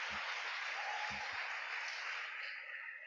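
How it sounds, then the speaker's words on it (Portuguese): Applause fills a church gathering during a Portuguese sermon, a dense, even wash of many hands clapping, steady and moderately distant before fading slightly at the end. "Uma salva de palmas para Jesus."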